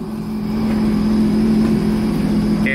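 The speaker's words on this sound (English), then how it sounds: "now I've started the engine up" A jet ski engine runs steadily at close range, a loud, even drone with a low hum throughout and no break in the sound.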